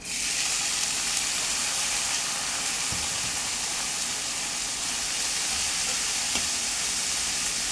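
Ghee going into a pan for Punjabi sarson da saag, giving a steady, close hiss and sizzle that holds through without pause, with a couple of faint clinks in the middle and no voices.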